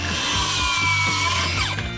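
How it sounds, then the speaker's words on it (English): A circular saw cutting timber while a van is converted into a camper: a loud, steady, close whine of the blade biting through wood across the whole stretch, with no voices. "With a circular saw, we cut the timber down to the required dimensions."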